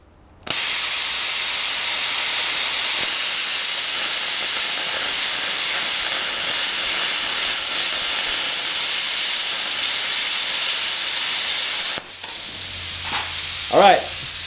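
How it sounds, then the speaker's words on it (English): A Hypertherm Powermax 30XP plasma cutter slices through quarter-inch steel flat bar with a loud, steady hiss lasting about eleven seconds. It cuts off abruptly, leaving quieter background sounds. "It's not gonna be the straightest cut, but it'll give you an idea of how the penetrating power of the plasma cutter."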